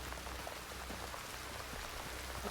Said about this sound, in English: Ah, the rain. How beautiful.